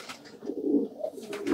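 Pigeons in a loft give soft, throaty coos, a couple of rounded rolling calls close by over a quiet background, with faint chirps near the end.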